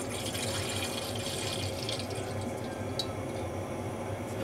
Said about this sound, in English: So I'm just pouring the milk.